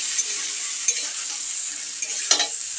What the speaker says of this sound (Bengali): তো তাহলে একটু এটা ভাজা হচ্ছে